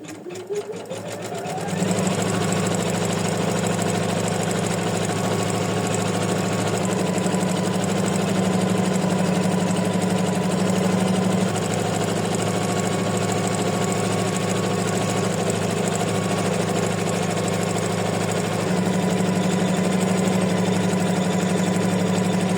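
An embroidery machine stitching white hearts on white fabric, starting up and then running with a loud, steady rapid mechanical hum and rhythmic needle chatter, close and continuous throughout.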